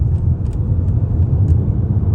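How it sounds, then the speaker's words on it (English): A car with a freshly cleaned diesel particulate filter pulls away under acceleration with the turbo working, giving a steady, loud, low engine rumble from inside the vehicle. "So I put my foot down, the turbo is working"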